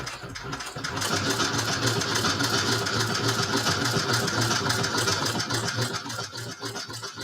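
A sewing machine stitches a leather handbag, running steadily and fairly loud with a continuous mechanical whir and rapid needle clatter, starting up in the first second and holding for several seconds, with a brief pause near the end.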